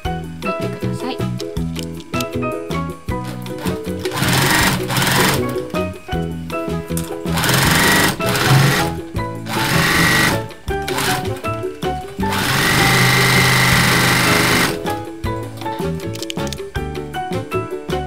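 A sewing machine stitching the seams of a fabric pencil case with a gusset, its fast, even whirring running in several stretches that start and stop, with brief pauses between runs.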